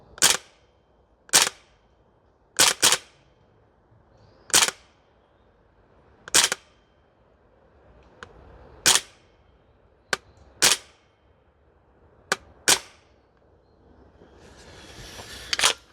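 Sharp airsoft shots from Maruyama ISO556 guns on an outdoor shooting range, about a dozen crisp single reports spaced irregularly, some in quick pairs, fairly close and loud over a quiet background with no talking.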